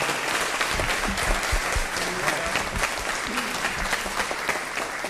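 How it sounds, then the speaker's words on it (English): Dense, steady applause from the audience at a school board special meeting honors a retiring board member, with some voices mixed into the clapping. "Let's give Lloyd a big round of applause"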